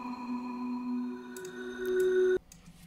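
Plucked marimba audio smeared by heavy blurring into a sustained granular pad, a steady tonal drone with faint shimmering grains that cuts off abruptly, leaving a soft tail and no voices.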